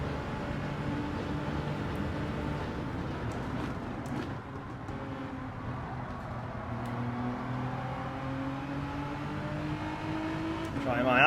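Race cars in Gran Turismo 7 drive down a straight with a steady engine drone and rising whine as rivals close in the slipstream, mixed under a person talking.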